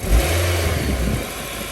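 A 2019 Nissan Altima engine revs as the gas pedal is pressed, a loud low rumble that swells early and then holds steady at high revs, with no talking.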